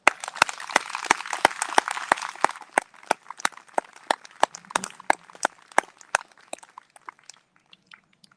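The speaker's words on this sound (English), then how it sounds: "Another round of applause for Lisa and her husband, Michael, please." An audience at an overdose awareness day rally in Lockport applauds; dense, lively clapping fills the first few seconds, then thins into scattered individual claps that trail off toward the end.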